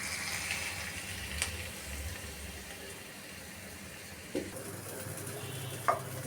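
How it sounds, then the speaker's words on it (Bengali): Garlic and onion temper in hot oil in a frying pan with a steady bubbling sizzle, a few sharp clinks of a utensil rising above it, and no speech. "এখানে রসুন আর পেঁয়াজ দিয়ে বাগার দিয়ে দিব।"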